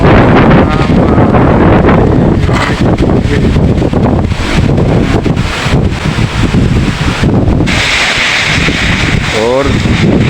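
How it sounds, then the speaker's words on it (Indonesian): Strong gusts sweep through Klaten, a loud continuous roar of wind buffeting the microphone with rustling debris and leaves throughout, while someone talks over it. "angin kencang lur, tetap waspada lur"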